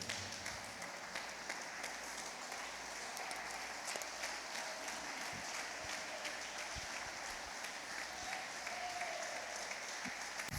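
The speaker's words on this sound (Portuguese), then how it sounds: "Se coloquem todos de pés, aplaudindo bem forte ao Senhor" A church congregation at a worship gathering applauds loudly and continuously, a dense, even wash of clapping that holds for the whole stretch.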